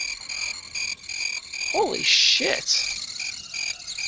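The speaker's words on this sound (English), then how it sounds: "Those fucking crickets are loud!" Loud, dense cricket chirping pulses in a steady rhythm as level ambience in the video game Shadow Warrior Classic Redux, with two short swooping calls in the middle and a brief exclamation from a player.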